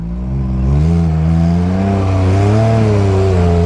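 A Can-Am off-road vehicle's engine revs hard and steadily as it pushes through a mud rut, a loud, close, continuous roar that rises slightly in pitch.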